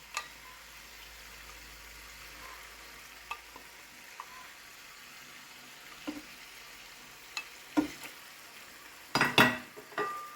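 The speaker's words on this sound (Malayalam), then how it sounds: "ഇനി ഇതിൽ നേരത്തെ ഫ്രൈ ചെയ്ത് വെച്ചിരിക്കുന്ന മീനിടാം" Pre-fried fish is added to simmering masala in a pan: a quiet, low sizzle with scattered utensil clinks, ending in a louder clatter of pan and spoon.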